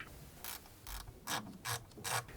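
Ratchet wrench driving bolts into the transmission pan of a 2018-2025 Audi B9 S5/S4 with a ZF 8HP gearbox, heard as several short bursts of quiet clicking pawl strokes at a steady pace, close and alone.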